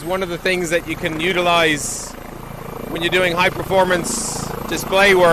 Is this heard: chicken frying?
no